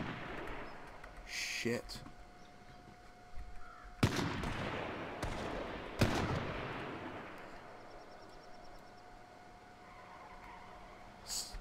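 AR rifle fire in H1Z1 King of the Kill, several sharp loud cracks spaced a second or two apart with a louder pair near the middle, over a steady hum; a man curses briefly.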